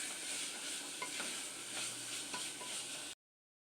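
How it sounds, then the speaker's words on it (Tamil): Soaked chickpeas being stirred into a pulao masala in a pan, a soft continuous hiss of sautéing with faint scraping strokes, then abrupt silence. "இதையும் சேர்த்து நல்லா கிளறி விட்டுக்கலாம்"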